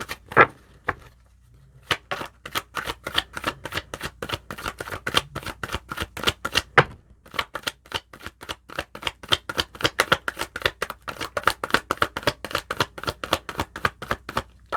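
Tarot cards shuffled by hand close up, with a quick run of crisp riffling snaps, a short pause near the start and again midway, then a steady rapid flutter of card slaps with no talking.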